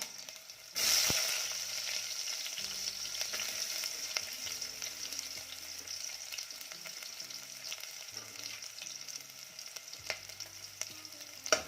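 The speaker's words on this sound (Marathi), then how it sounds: "कांदा देखील छान परतून घेऊया रंग बदलेपर्यंत कांदा छान भाजून घ्यायचा आहे आपल्याला" Onion sautéing with ginger in a pan for a Malvani white pea curry, a loud burst of sizzle as it goes in, then a steady close frying hiss with intermittent stirring scrapes, no voices.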